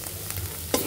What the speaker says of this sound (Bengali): এখন ভালোভাবে কষিয়ে নিতে হবে।